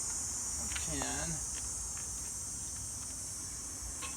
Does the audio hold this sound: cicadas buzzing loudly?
yes